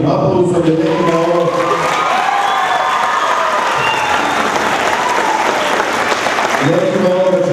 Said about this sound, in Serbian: Molimo da ih podržite velikim aplauzom